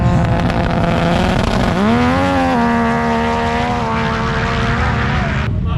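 A drone buzzes loudly overhead above a cornfield turned racetrack, its whining pitch sliding upward then holding steady, the rotor drone continuous and close.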